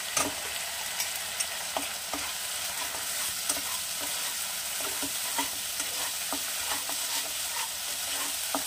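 Ginger paste fries in a pan with a constant, fairly loud sizzle, with light utensil taps and stirring clicks recurring throughout.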